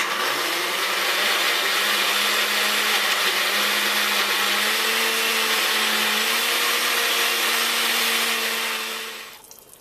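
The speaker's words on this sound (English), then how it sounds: "Pop the lid on and blend for about a minute" A blender whirs through a peach and mango yogurt smoothie, a loud, steady motor drone with slight pitch shifts as it works, running nearly ten seconds before winding down at the end.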